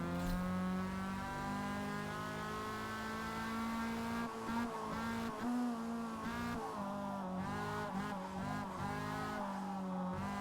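A drift car in a racing video game, its engine holding a loud steady whine before dipping and rising through downshifts, with bursts of tire squeal and revving near the end.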